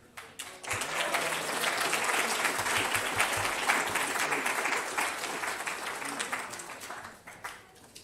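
A crowd at an awards event for bridge builders breaks into sustained applause, dense clapping that swells quickly, holds strong for several seconds and then tapers off near the end.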